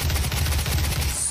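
Gunfire in the video game Doom 2016, a dense, rumbling stream of rapid shots that stays loud throughout the brief moment, with no voice over it.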